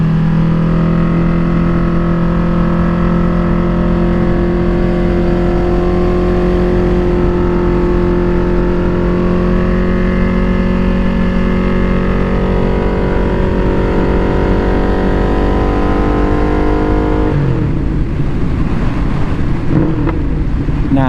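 Ducati Streetfighter V2 motorcycle fitted with an Austin Racing exhaust, heard on the road with a steady loud engine drone that holds and shifts pitch, ending in rougher, wind-buffeted throttle changes, with no talk.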